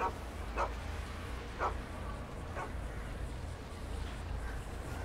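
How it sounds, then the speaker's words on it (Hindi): A dog barking in the video game GTA 5: three short, evenly spaced barks at moderate distance, set against a steady low rumble of engine noise. "ये कुत्ते लोगों पे भौंकते हैं क्या?"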